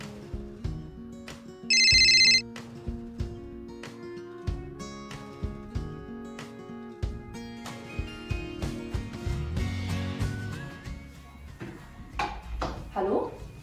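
An incoming call sets off a telephone ringtone in one short, loud electronic burst over soft background music.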